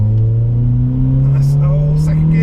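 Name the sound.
modified car engine accelerating through the gears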